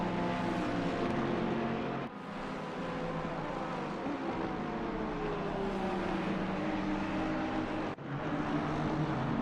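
A red and black Bentley GT3 race car in a racing game at Zandvoort holds a steady, droning engine note for several seconds, with two brief dips as it shifts gears.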